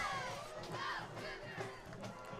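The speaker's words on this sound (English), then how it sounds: "Very nice crowd here this evening for the Cougars." A high school football crowd at Central Noble High School cheers and shouts for the Cougars on junior cheer night. The noise is a distant, fairly faint roar of many voices that swells and fades, with a few sharper shouts standing out.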